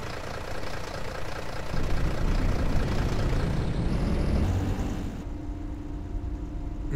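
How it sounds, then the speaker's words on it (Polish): A Solaris Urbino 18 articulated city bus in a Roblox game idles at a stop, its engine a steady low rumble that swells slightly midway, then settles into a lighter idle. "bardzo fajnie brzmi tutaj silnik na postoju"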